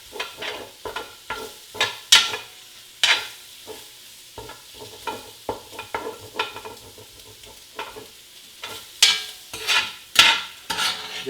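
Italian sausage browning in a pot for Cajun jambalaya, a spoon scraping and stirring in a rhythmic series of clacks and scrapes over a soft sizzle, close and clear.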